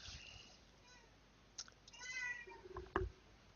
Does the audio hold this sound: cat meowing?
yes